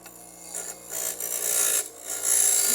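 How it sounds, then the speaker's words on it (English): A bench grinder rasps against the edges of a metal bracket from a Dodge Charger restoration, a close gritty grinding that swells and dips as the part is pressed and eased off, with no talk. "So I'm over on the bench grinder over here."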